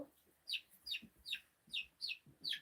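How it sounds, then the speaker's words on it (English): Chickens cluck in short repeated bursts, about seven even calls in quick rhythm, close by and moderately loud over a quiet background. A blind hen had just attacked a chick in the rain. "The baby got attacked by the blind chicken."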